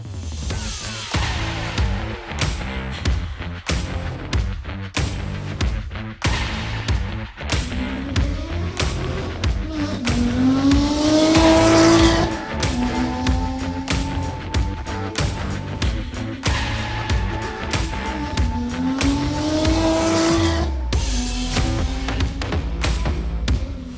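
A Ferrari Portofino M convertible is driven top-down in sport mode with manual shifting, its engine rising and falling through several revving pulls amid dense wind buffeting and sharp pops, loud and close throughout.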